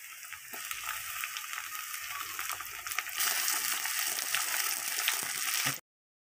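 Tomatoes frying in a pan for a drumstick-flower vegetable dish, giving a steady close sizzle that grows louder partway through and then cuts off abruptly.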